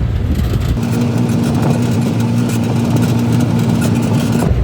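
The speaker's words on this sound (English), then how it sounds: "But the dump truck just goes by no problem." A dump truck engine drones steadily as it drives along a ditch road beside a canal, a continuous low rumble with a faint tone, close and even in loudness throughout.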